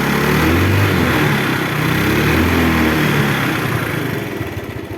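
A Yamaha Mio scooter engine runs loud and close at a steady idle with a constant buzzing drone, no voices, easing slightly toward the end.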